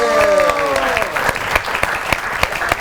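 A studio audience on a comedy show applauds guest Jawad Waseem, loud dense clapping that fades in under the host's voice and carries on alone.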